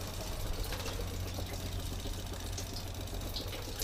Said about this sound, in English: And I can hear the inverter going